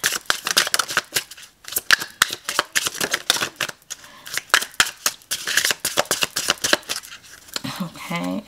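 New tarot card decks shuffled close up, a rapid run of crisp riffling and slapping card sounds in uneven bursts, with brief pauses between shuffles.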